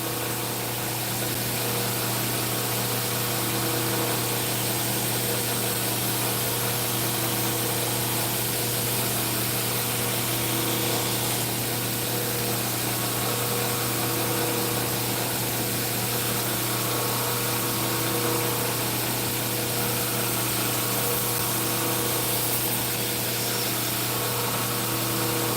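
A power tool grinds a secondary bevel onto a knife blade, giving off a loud, steady, unbroken whine and rasp that runs without a break throughout, close up, with no speech.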